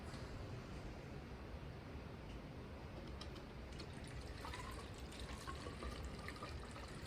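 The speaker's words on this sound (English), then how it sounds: "I'll stop the video so you don't just sit here watching me pour antifreeze" Antifreeze is poured into a car radiator through its water neck, a steady liquid gurgle and trickle that fills the whole stretch close up, with no talking over it.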